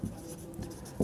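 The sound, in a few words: writing a math solution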